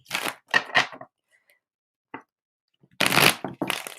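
Tarot cards are shuffled in quick bursts of crisp riffling and slapping, with pauses between, close and fairly loud, followed by a longer shuffle.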